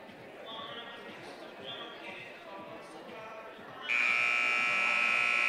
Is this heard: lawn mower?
no